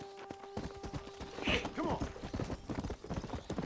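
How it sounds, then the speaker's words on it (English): Horse hooves clopping in the video game Red Dead Redemption Undead Nightmare, a steady run of thuds with a brief voice over them, set against game music and ambience. "From here, we're going to hop on our horse."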